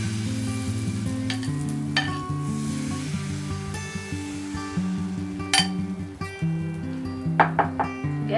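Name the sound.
batter poured into hot pan with ghee and oil, sizzling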